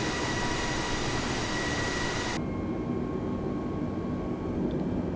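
An Airbus A320 cruising in Microsoft Flight Simulator 2020 gives a steady, loud broadband engine and airflow roar that drops noticeably in its upper hiss partway through, then continues as an even lower drone with no talking.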